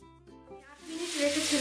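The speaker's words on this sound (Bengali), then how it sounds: "চিকেনগুলোকে আমি মিডিয়াম হিটের থেকে একটু বেশি হিটে ভাজবো" Chicken pieces sizzle on a grill pan over higher than medium heat. A voice speaks first, then a bright frying hiss swells and holds steady and fairly loud.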